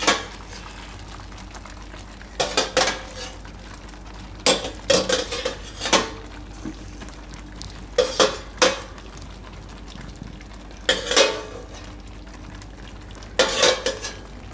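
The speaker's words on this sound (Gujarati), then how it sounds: "અને આ ફ્લાવર છે એને આપણે ગ્રેવીમાં નાખી દઈશું" Cauliflower florets tipped into simmering gravy in a cooking pot for a Gujarati cauliflower and pea curry, heard as intermittent clinks and scrapes of a spoon against the pot over a low bubbling background, no talking.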